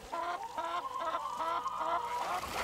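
A flock of hens in a seaside farmyard clucks steadily and close by, with repeated rising and falling calls overlapping throughout and no talking.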